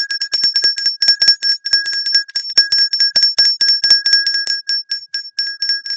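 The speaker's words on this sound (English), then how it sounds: "A quick ring of the bell" A small bell rings in rapid, steady repeated strikes, bright and clear with a sustained metallic tone, close and alone.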